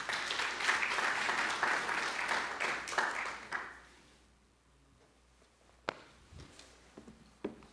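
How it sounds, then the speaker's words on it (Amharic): Church congregation clapping to welcome a speaker, a broad burst of applause that carries strongly for a few seconds, then fades into near quiet with a couple of isolated knocks afterward. "አጨብጭቡ ለጋሽ ተሼ።"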